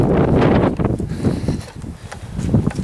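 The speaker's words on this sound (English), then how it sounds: "It's breezy now," Strong wind gusting across an open hillside near Penycloddiau, a loud, buffeting roar against the microphone that surges and eases over a few seconds.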